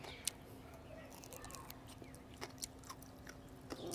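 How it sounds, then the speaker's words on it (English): A small whole fruit, skin on, is chewed up close with soft, crisp crunches and wet squishing bites spread over a few seconds, faint and with no words. "But I can kind of eat this like a kumquat."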